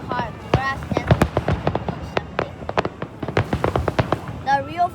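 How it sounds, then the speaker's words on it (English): Fireworks at Stanley Park's Second Beach pop and crackle in a rapid, uneven string of sharp bangs at a moderate distance, with people talking and exclaiming over them. "This is like the best fireworks I've ever seen."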